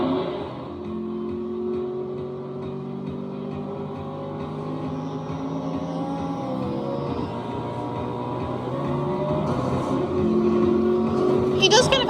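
Truck engines in the Nitro Trucks arcade racing game drone and rev in steady overlapping tones that climb in pitch toward the end, while people talk over them.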